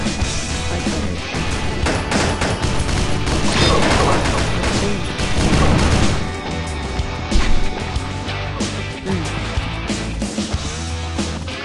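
Gunfire from an anti-hero sniper rifle in a video game rings out amid a dense, loud mix of game effects, crashes and booms, with sharp bursts standing out near the end.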